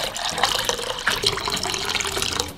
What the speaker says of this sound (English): Then we'll take our second pan and fill that up with 6 cups of water.